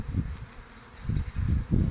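Honeybees massed on a hive frame during a spring inspection, a close buzzing swarm that swells and fades in uneven waves, heard alone without talk.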